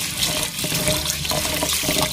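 Sticky rice being rinsed in a bowl of water, with continuous close splashing and sloshing of liquid and no talk.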